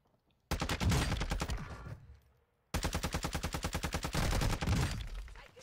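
Gunfire in an online shooter video game, with loud sustained automatic bursts in two long strings separated by a short pause, close and dominating, no talking.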